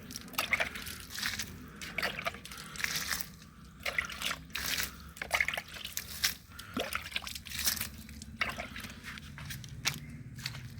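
Water trickles and splashes from a container onto young plant seedlings, coming in uneven dribbling bursts close to the microphone over about ten seconds, with no talking.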